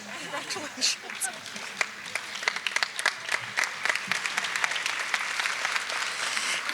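Applause and cheering from an audience at a 2022 scholarship ceremony, dense clapping sustained throughout with sharp individual claps standing out, at moderate distance in a hall.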